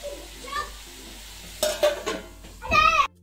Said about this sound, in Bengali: কাঁচা লঙ্কা দিয়ে বেশ একটু ভাজা ভাজা করবো, ভারী টেস্টি হয় খেতে।